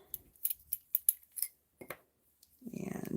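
Scissors cut card stock for a handmade Christmas card: a quick series of crisp, close snips in an uneven rhythm, a brief pause, then a rustling scrape of paper at the end.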